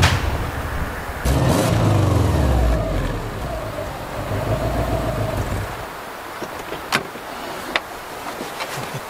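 Subaru Legacy 2.2 GX AWD car driving, a steady engine and road drone from inside the cabin that eases off midway, leaving quieter rolling noise with a couple of faint clicks.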